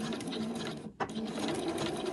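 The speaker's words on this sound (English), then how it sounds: "start off with a little back stitch" Sewing machine running a straight stitch with a short back stitch at the start of a fabric scrunchie, a rapid close whirring hum that stops for a moment and then resumes.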